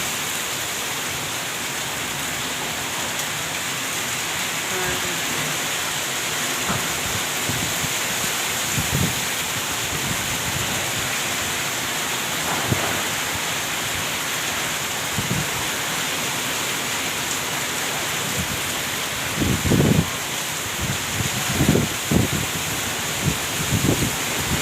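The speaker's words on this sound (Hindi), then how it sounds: "आपको आगे दिखा रहे हैं कि कितना भयानक तूफ़ान आया हुआ था" Heavy rain pours steadily during a storm over a banana crop, a dense continuous hiss with occasional louder gusts or thuds near the end.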